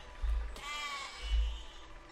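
A sheep bleats in the physics building game Besiege, one quavering bleat that stands out clearly over low rumbling game sounds.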